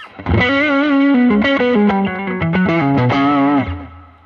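A distorted Greco electric guitar through a Boss GE7 EQ pedal plays a short melodic phrase, bright and sustained with a shimmering effect, loud and close, no voices.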